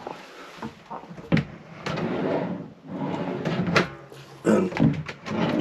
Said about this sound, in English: An under top pull-out drawer there.